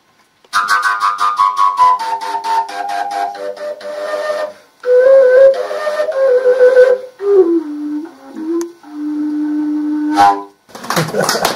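A long melodic whistled Slovak folk tune (valaska) with sliding, sustained notes in changing phrases, loud and close, broken by brief pauses and a burst of noise at the end.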